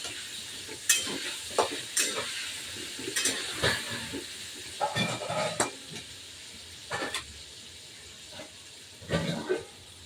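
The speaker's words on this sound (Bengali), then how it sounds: "আলুগুলো ভেজে নেব।" Washed potatoes fry with a little turmeric in hot oil in a pan, giving a low steady sizzle broken by irregular scraping and stirring bursts, close by, with no one talking.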